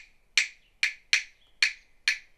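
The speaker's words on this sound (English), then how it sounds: "These are some wood blocks" Wooden percussion blocks are struck five times in a loose, uneven rhythm, each knock sharp, hollow and close, decaying quickly into near silence between hits.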